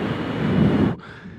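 Strong wind buffets the microphone on the Princes golf course, a loud, dense rumbling roar that drops off abruptly near the end to a lighter steady blow.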